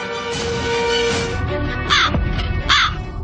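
A crow caws twice, loud and close, with harsh calls a little under a second apart over a steady background hum.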